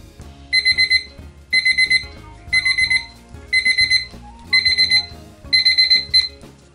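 A timer alarm beeps in six loud, rapid bursts of shrill electronic tones with short gaps between them, close by, while resin cures for a DIY napkin ring project.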